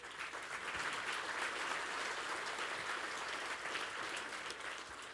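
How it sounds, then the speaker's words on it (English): A live audience at a radio centennial celebration in a sold-out dinner theater applauds steadily, a broad, even roar of clapping that carries on without pause, heard at a slight distance. "I think you should give yourselves a round of applause"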